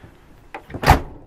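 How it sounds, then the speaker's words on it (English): A door on a large four-door Norcold gas/electric refrigerator-freezer in a 2005 Itasca Suncruiser motorhome clunks shut with a couple of soft knocks followed by one firmer thud, close and fairly quiet. "Nice big 4-door Norcold refrigerator and freezer."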